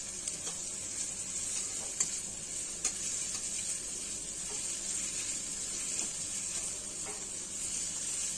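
Spice paste for a Bengali rohu-type fish curry sizzles steadily in hot oil, a continuous frying hiss with occasional stirring scrapes and small pops, close and alone without talk.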